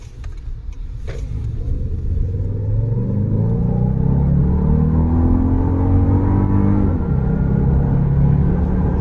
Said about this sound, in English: That sounds like a V8 or maybe a throaty V6, but it's just a 4-cylinder.